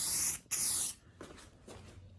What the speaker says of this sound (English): I have the can warmed and I'm ready to spray.